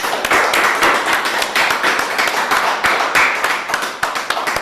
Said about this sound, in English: Can we give Wayne a big round of applause?